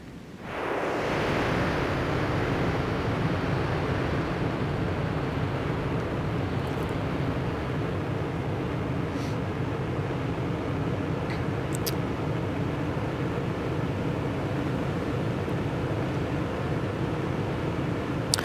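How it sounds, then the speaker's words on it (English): Aircraft engine in the combat flight game Aces High 3 spinning back up, a loud, steady roaring rush that swells quickly at the start and then holds constant with no talk over it. "We're going to go ahead and turn the engine back on again"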